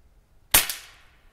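A single shot from a Crosman Legacy 1000 air rifle fired outdoors at dusk: one sharp, close crack with a short fading tail in otherwise near silence.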